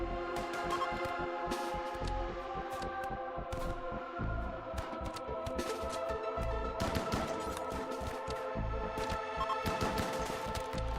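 A chain shotgun in RimWorld fires in rapid, repeated bursts of cracking shots, sustained and fairly faint over a humming background, with no one talking.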